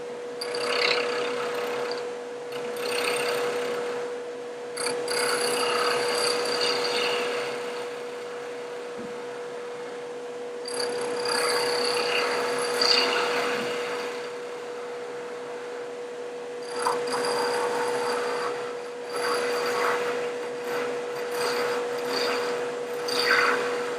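Skew chisel cutting a wooden tree topper spinning on a lathe, close rushing cuts in several long passes separated by quieter gaps, over a constant machine hum.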